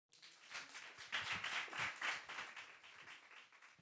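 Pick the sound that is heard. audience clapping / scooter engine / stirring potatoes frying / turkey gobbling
audience clapping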